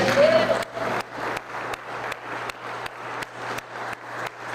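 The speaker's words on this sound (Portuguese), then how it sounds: "Você pode dar uma salva de palmas para Jesus?" Church congregation claps in a steady rhythmic beat at a worship service, a sustained burst at first then evenly spaced group claps roughly every half second with a low hum beneath.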